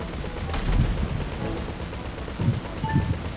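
Gunfire in GTA V Online, a few scattered muffled shots and bursts popping over a rumbling, noisy game background, with no talking.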